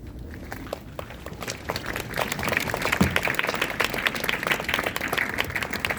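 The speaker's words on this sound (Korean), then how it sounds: "증언해 주실 때 많은 응원과 격려의 박수 부탁드립니다." Applause from an audience at a memorial service for the Sewol ferry disaster, a moderate wash of clapping that builds gradually and continues steadily at middle distance.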